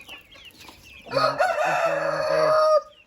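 A single long, loud crow from an Aseel rooster rings out close by after some faint, scattered farmyard sounds, then cuts off abruptly.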